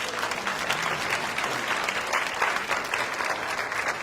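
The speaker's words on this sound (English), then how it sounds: "let's give a big round of applause to everybody" A large crowd at an international youth meeting applauds everyone after a presentation session: sustained, even, dense clapping that carries on throughout without a break.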